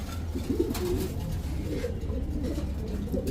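Pigeons coo at a pigeon market in a low, throaty, repeated pattern. The cooing is close and continuous, over a busy background murmur.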